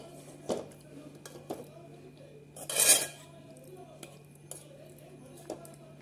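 A spoon scrapes stuck aval halva off a metal pan, giving several sharp clinks spread apart and one longer, louder scrape midway, close by and otherwise quiet.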